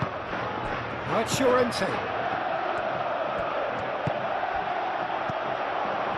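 Stadium crowd noise from a simulated La Liga football video game match between Atletico Madrid and Athletic Bilbao, a steady wide roar that swells briefly, with a commentator talking over it.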